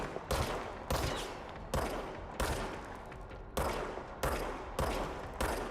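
Service weapon fire in the Control video game: a rapid series of sharp gunshots, about eight evenly spaced bursts, loud and close, with no talk over them.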